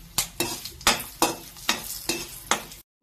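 Dried red chilies frying in a little oil in a pan while being stirred, with repeated scraping clinks of a spatula roughly every third of a second over a soft sizzle, close and moderately loud before going silent.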